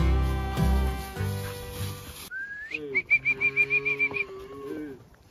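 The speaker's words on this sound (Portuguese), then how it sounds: "Tá faltando boi meu aí." Cattle being herded moo in long, low calls near the start, followed by a herder's loud, rapid whistled calls with more lowing underneath.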